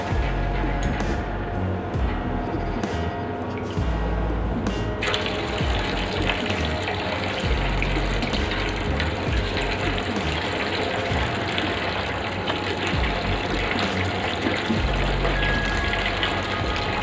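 Honda 50/50 coolant is poured into the radiator of a Bajaj Pulsar 200 NS, a steady close trickle and gurgle of liquid over a constant background hiss, without speech.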